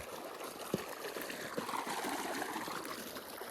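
Steady irrigation water streams and trickles continuously into a castor field, a soft broadband rush with a few small splashes, close by and without voices.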